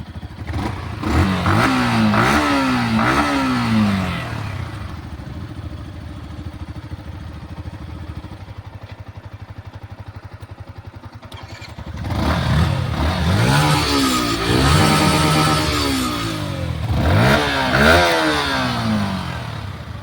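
A Yamaha MT-15 motorcycle engine revving up in loud, rising bursts, easing back to a steady idle for several seconds, then revving hard again in repeated swells, close and with no voices.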